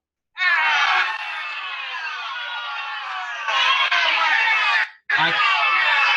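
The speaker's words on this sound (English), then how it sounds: "So if I wanted to add a booing crowd," A booing crowd sound effect from iMovie's built-in library: a dense, loud wash of many voices jeering continuously, swelling near the end before a brief dropout and a return at full strength.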